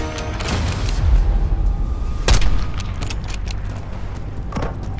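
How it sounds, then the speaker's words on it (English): Mortar rounds landing in the Call of Duty Black Ops 6 campaign, a couple of heavy booming impacts over a steady rumble of battle ambience, loud and fairly close, with no talk. "Got mortar fire!"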